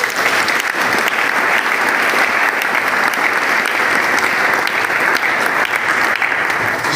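A church congregation claps in sustained, dense applause throughout, loud and steady, with no speech over it.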